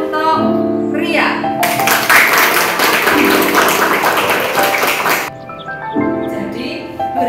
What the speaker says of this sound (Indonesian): Tepuk tangan untuk Ria.